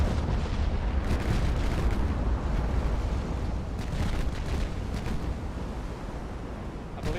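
Naval guns in Ultimate Admiral Dreadnoughts fire 18-inch high-explosive shells, and heavy booms and shell blasts roll together into a loud, continuous, rumbling barrage with no pauses.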